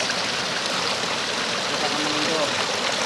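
A clean forest stream flows under large overhanging trees, making a steady close rushing and gurgling that stays even and unbroken throughout.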